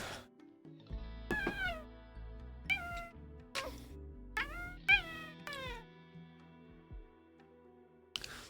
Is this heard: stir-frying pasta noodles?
no